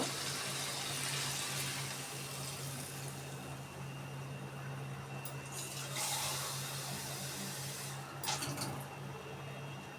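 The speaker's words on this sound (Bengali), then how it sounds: "দুই মগ পরিমাণ পানি দিয়ে দিব যাতে ভালোভাবে সিদ্ধ হয়" Steady rushing water runs continuously for the whole stretch as two mugs of water are poured into a pot of frying cauliflower and potato, with a couple of faint clinks near the middle and end.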